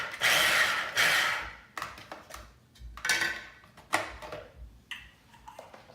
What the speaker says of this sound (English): Put a bit more cabbage in that time. It takes a little bit more chopping.